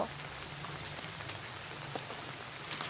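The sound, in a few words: rain falling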